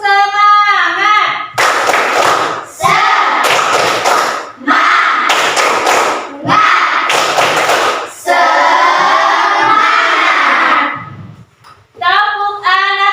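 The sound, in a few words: children clapping in class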